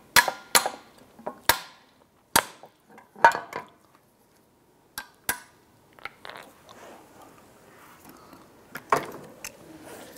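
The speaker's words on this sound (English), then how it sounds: "Now we have our retainer here for the compression. We're going to tap that off." Sharp metallic taps knock the compression retainer off a strut assembly for a 2001-2007 Ford Escape, a dozen or so close, isolated hits at irregular intervals with quiet gaps and faint handling noises between them.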